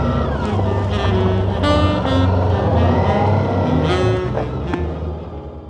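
A motorcycle engine drones steadily and loudly while riding on the open road between Albacete and Teruel, its rising and falling harmonic note blended with rushing wind and no voices.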